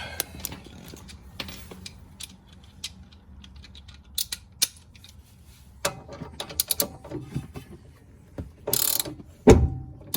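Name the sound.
ratchet turning bolt on Porsche 986 sway bar link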